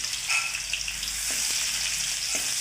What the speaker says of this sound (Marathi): चला कांदा टाकूया आपण.